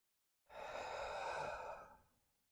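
A single long, deep exhale during a yoga practice, a soft airy sigh close to the ear that swells quickly and then fades gradually over about two seconds.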